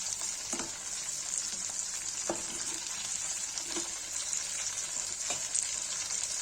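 Steady oil sizzle of chicken frying in a pan, continuous and fairly loud, with a few soft clinks from stirring scattered throughout.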